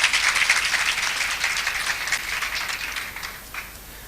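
An audience at a scientific talk applauds for a few seconds with dense clapping. The clapping starts strong and slowly fades out.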